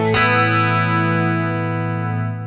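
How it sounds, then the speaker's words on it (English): A single electric guitar chord is struck on a Fractal AM4 and left to ring, clean and dry with no time-based effects or echo, its sustain slowly fading over a couple of seconds. "Then there's a scene with no time-based effects, so just a dry clean."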